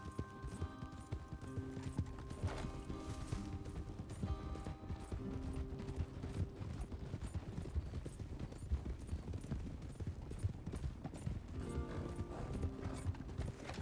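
Horses' hooves clip-clop steadily in Red Dead Redemption 2, several animals at a walk on open ground, fairly quiet and continuous under sustained musical tones and creaking tack.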